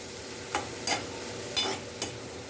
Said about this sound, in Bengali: সব মশলাগুলো সব দিয়ে দেবো, দিয়ে ভালো করে কষাবো।